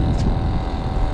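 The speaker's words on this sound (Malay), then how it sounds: "Kuat angin pagi ni." Strong morning wind sweeps across the Penang bridge, a dense low rumble buffeting the microphone without a break through the short moment.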